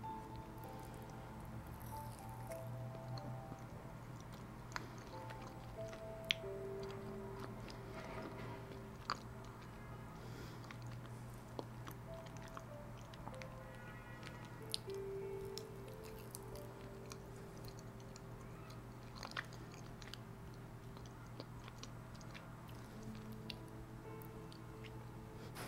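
Quiet, close chewing and soft biting of mochi, with faint sticky squishes and small mouth clicks scattered over a steady low background hum, no talking.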